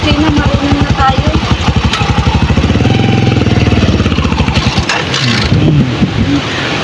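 Engine of a manual car during a driving lesson, a loud, rough, pulsing drone that labours as the clutch is handled, with people talking over it.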